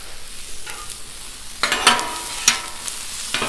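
A chopped jalapeno and a quarter of a white onion hit an oiled griddle, giving a steady hiss with a few sharp bursts of sizzle and scraping, close and loud.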